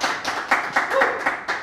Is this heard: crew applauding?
yes